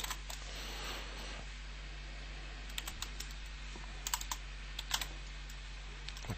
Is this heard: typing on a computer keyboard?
yes